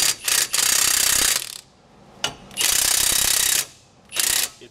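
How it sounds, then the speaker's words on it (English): A wrench ratchets rapidly on a bolt while replacing a wheel bearing on a 2001 Toyota Tundra, three loud bursts of clicking with short pauses between them. "You need a wrench up there"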